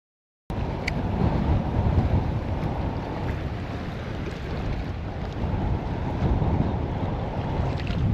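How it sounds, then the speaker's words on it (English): Strong wind buffets the microphone outdoors while bass fishing, in a steady, roaring rush with low rumbling gusts, continuous and loud throughout, with no voices. "It's too windy for me."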